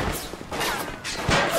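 Gunfire from the video game Bioshock cracks out in several sharp bursts over about a second and a half, close and loud, mixed with game effects and some voice sounds.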